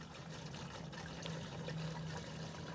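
Warm water poured into a plastic caravan cassette toilet, a steady soft trickle and splash running throughout at low level with no talk.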